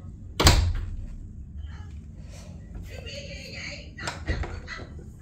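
A door swings shut with a loud close near the start, followed by a second softer knock later, in a home kitchen where a baby crawls, while someone talks throughout.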